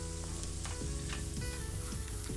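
Mashed boiled potato with chopped coriander, green chilli, vegetables, turmeric and salt sizzles steadily in a pan while being stirred, with soft scraping strokes over the constant frying hiss.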